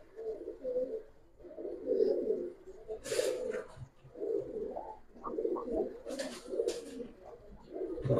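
Giribaz pigeons coo in repeated low, throaty bursts through the whole stretch, fairly close, with a few higher sharp scuffs and flutters in between and no talking.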